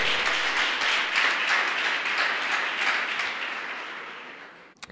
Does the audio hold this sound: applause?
yes